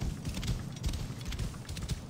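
Horse hooves gallop in the video game Assassin's Creed Origins, a steady run of muffled clip-clop beats under continuous game ambience.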